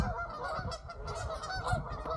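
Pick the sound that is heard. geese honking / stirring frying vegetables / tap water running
geese honking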